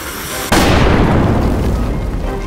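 A cartoon sprinkle bomb goes off in a Playmobil cooking scene: a sudden loud boom after a brief lead-in, followed by a long, rumbling, crackling decay.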